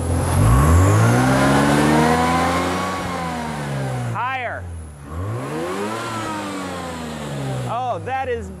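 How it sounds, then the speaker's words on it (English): A tuned car engine fitted with a Teensy/Arduino piggyback ignition revs up twice, each pull sweeping up in pitch and falling back, loud and close, with brief overlapping speech. "All right, rev it."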